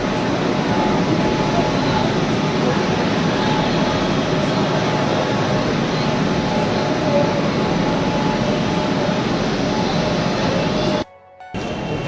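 Steady broadband roar of a crowded metro station and train in Kolkata, loud and continuous for about eleven seconds before cutting out abruptly near the end, with faint crowd voices mixed into the din.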